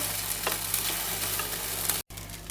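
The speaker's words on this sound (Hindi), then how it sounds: "दही भल्ला को हम पलटा देंगे और दूसरी साइड से भी इसे हम सेकने के लिए पलटा देंगे" Paneer dahi bhalla, just flipped, fries in a pan with a steady, fairly loud crackling sizzle and a few soft clatters. The sound cuts out briefly near the end before resuming, with no talking.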